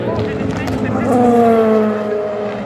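Race cars at the 24 Hours of Le Mans, a Cadillac and a BMW, roar past close by with a rising then falling engine whine under a continuing commentary voice.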